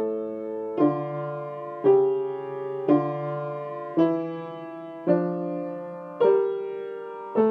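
A short counterpoint example in 18th-century style, two or more lines moving together in a steady series of seven struck, sustained chords, one about every second, clear and alone with no talk.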